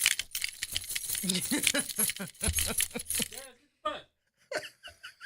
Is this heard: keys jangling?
yes